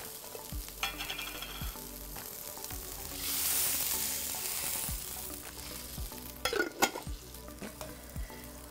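Bone broth sizzles and bubbles gently in a hot pan, with occasional soft clinks and scrapes of a utensil against the metal.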